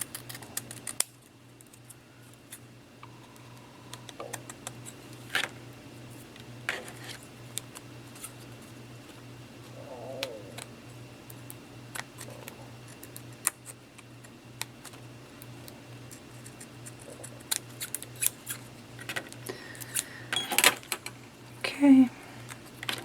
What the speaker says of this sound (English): So a little more trimming here.